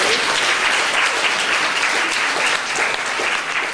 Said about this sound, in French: On va l'applaudir pour rehausser sur le.